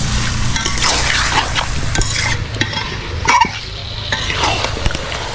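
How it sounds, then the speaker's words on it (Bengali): Chicken sautéing with spices in a pan for a Bengali-style chicken korma: constant sizzling and frying under repeated scraping strokes of a spatula, with occasional metallic clinks of utensil against the pan. "মশলার সাথে ভালোভাবে মাংস মিশিয়ে আমি মাংসটা কষিয়ে নেব।"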